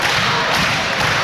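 Drop kick landing in a wrestling ring at a live Celtic Championship Wrestling show, heard as a single broad, loud thud amid steady crowd noise.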